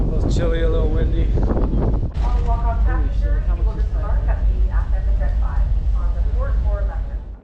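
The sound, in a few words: wind out on the water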